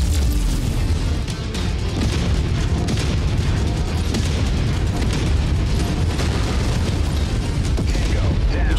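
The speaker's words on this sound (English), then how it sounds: "You just hit me with that particle cannon." Loud, continuous booming blasts and bursts of particle cannon fire in the video game MechWarrior 5: Mercenaries, dense and sustained throughout with no pauses.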